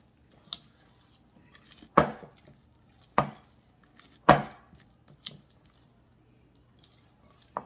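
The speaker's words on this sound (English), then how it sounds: "I'm going to mix away here" Batter for chocolate Coffee Crisp muffins mixed in a bowl, a few separate thudding, squishy strokes spaced a second or so apart against quiet pauses.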